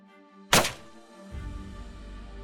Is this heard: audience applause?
no